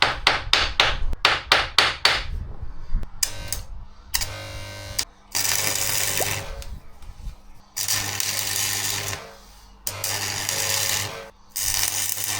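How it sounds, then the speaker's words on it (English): A nut is hammered onto the sprocket shaft of a Yamaha, first a rapid series of sharp metallic hammer strikes, then longer stretches of grinding or rasping metal noise, loud and close. "I'll hammer this on and I'll weld this on"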